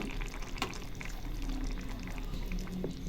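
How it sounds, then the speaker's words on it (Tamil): Green curry paste poured into a pan of mutton curry gravy, a steady close bubbling, sizzling wash of liquid with a soft splashy pour and a faint clink partway through. "இப்போ இந்த க்ரீன் கறி பேஸ்ட் இதை ஊற்றிடலாம்."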